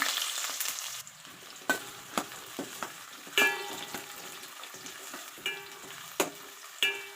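A tempering of cumin, fenugreek, mustard seeds and dried and green chillies fries in oil, a soft continuous crackle broken by sharp pops and spatters at irregular intervals.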